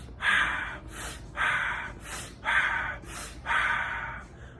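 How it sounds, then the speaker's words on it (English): Rapid Wim Hof style breathing through the nose, with four forceful inhales each followed by a softer exhale in a quick, even rhythm, close and clear with no talking. "3 rounds of 30 breaths in and out, about this tempo, in your nose"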